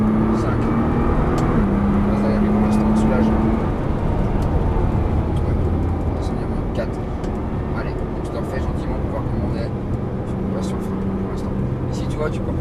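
A Nissan GT-R accelerates hard around a race circuit, its engine droning steadily from inside the car while a driver talks over it throughout.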